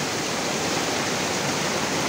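Floodwater rushes through a canal during Typhoon Kristine, a loud, steady, broadband roar of churning water with no break.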